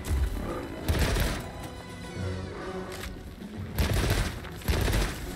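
Explosive bursts in Monster Hunter Wilds, several broadband blasts landing at irregular intervals over a rumbling, busy game soundscape, fairly loud and close.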